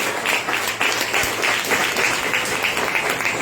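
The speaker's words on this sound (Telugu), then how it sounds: "చప్పట్లు కొట్టండి గట్టిగా." A church congregation at a Sunday worship service claps loudly and steadily, a dense wash of many hands filling the whole stretch without pause.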